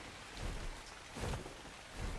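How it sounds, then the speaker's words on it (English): Steady rain falls in the survival game Ark Survival Evolved, a soft broadband hiss with a few louder swells, heard alone without speech. "we'll bump it up since it's raining"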